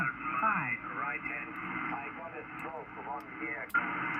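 Shortwave radio reception on the 20 m band through a dipole antenna, a weak distant station's voice warbling under steady hiss and band noise with interference, sustained throughout with a brief crackle near the end.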